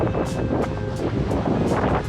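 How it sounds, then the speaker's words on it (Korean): Ocean waves on a beach in Guam, a continuous loud wash of surf mixed with wind buffeting the microphone, with repeated bursts of hiss as waves break. "와 파도."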